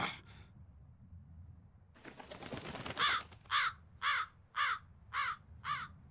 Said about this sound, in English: That crow just flew off with the coin!